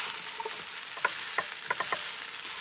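Broad beans and eggplant coated with spices sizzle in a pan under a constant hiss, while light taps and scrapes of a spatula stir them at an irregular pace, close and with no talking.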